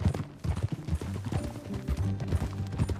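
Hoofbeats of a ridden horse in Red Dead Redemption 2, a steady close clip-clop over low rumbling game ambience, with a faint voice briefly in the middle.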